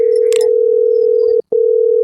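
A phone gives a telephone ringing tone during an outgoing call. The loud, steady electronic tone holds continuously with one brief break before resuming, and faint background noise sits underneath.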